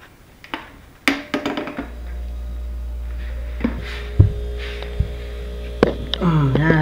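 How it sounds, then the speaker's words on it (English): A mini freezer's compressor hums steadily after its starting relay was repaired, a low continuous drone beginning about two seconds in, with a few taps and handling knocks over it. "Narinig yung compressor"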